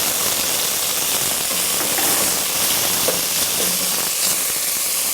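Minced garlic sizzles in warm olive oil in a pan, a steady close crackling hiss with faint pops running throughout.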